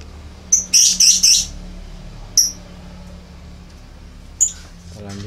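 A canary released into an aviary gives a few bright, sharp chirps, a quick burst of three close together followed by two more isolated calls, sounding near and clear over a quiet background.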